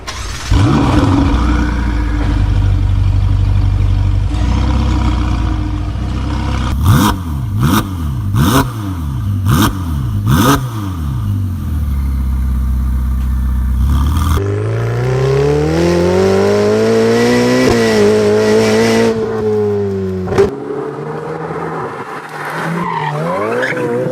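A Ferrari 488 Pista engine and exhaust, loud and close, revving in repeated sharp rising and falling bursts, then accelerating hard through climbing gear sweeps with brief tire squeal.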